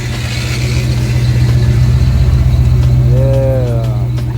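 A Chevelle at a car meet throws out a loud, close, continuous engine rumble that holds steady and full-bodied throughout, with a short voice-like tone rising near the end.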